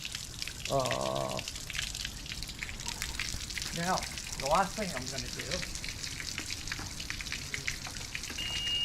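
Water runs steadily from a tap in a workshop during a Mercury 2.5L Optimax outboard service, a continuous hiss with someone talking over it.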